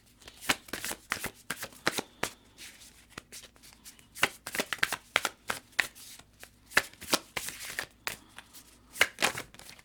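Wild Unknown tarot cards being shuffled in a steady run of crisp riffling bursts and papery slaps, close and fairly quiet, with no talking.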